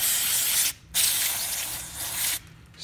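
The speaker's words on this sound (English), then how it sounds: "just spray it out" Spray cleaner hisses in two loud, close bursts as a carburetor part from a Troybilt TB110 is sprayed out, with a brief pause between them and another short hiss at the end.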